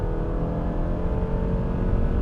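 A 2021 Toyota Camry XLE AWD engine revs high and steadily, a loud, continuous drone heard alone with no talk.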